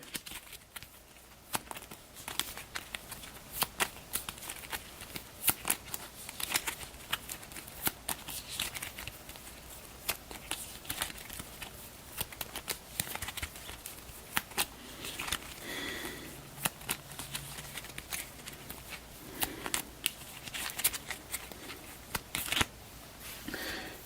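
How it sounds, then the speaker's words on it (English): Cards from a GI Joe deck-building tabletop game shuffled repeatedly by hand, a steady stream of crisp riffling and slapping bursts close to the listener for over twenty seconds with no talk. "We'll give these a quick shuffle."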